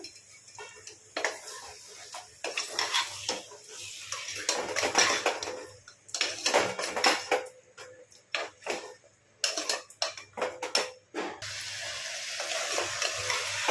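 A metal spoon scrapes and clanks against a cooking pot while chicken curry is stirred, in irregular bursts of rattling and scraping with short pauses between.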